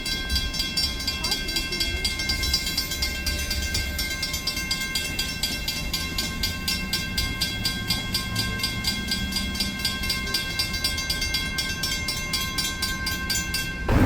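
A New Hope Railroad train runs past, giving a loud, steady rumble with rhythmic clicking from the wheels on the track and a high metallic ringing, continuous throughout.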